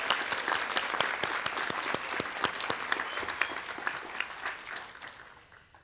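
A crowd applauds at an adult education graduation ceremony, a continuous patter of many hands that tapers off toward the end.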